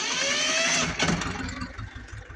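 A Xingtai 180 tractor engine cranks with a whirring starter, then catches and settles into a low, rhythmic diesel chug close by, all within a couple of seconds and with no talking.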